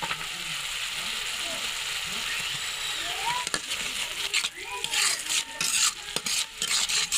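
Cumin powder and spices are stirred in a hot cooking pan for a pumpkin and Malabar spinach stem curry, a close, steady scraping of spoon on metal over a soft sizzle, growing choppier toward the end.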